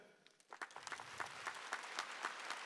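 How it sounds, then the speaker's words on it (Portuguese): A church congregation breaks into clapping, starting sparse and quickly building into steady applause, heard at a modest distance. "Eu queria que você aplaudisse a Santa Igreja."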